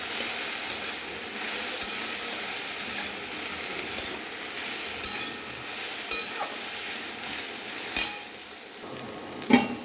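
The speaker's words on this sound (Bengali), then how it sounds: "দেখো ফ্রাই হচ্ছে, নুন দিয়েছি" Bottle gourd stems fry with salt and turmeric in a pan, giving a steady close sizzle with faint stirring and a few sharp utensil clinks against the pan.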